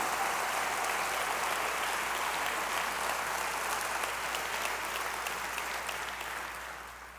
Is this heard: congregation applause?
yes